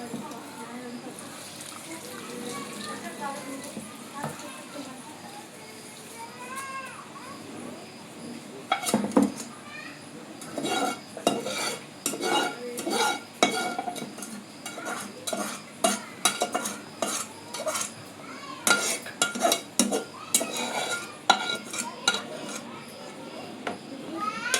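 Mango pickle being stirred by hand after hot oil is poured in, with repeated scraping and clinking of a utensil against a pot, the stirring getting busier and louder partway through, under faint background voices.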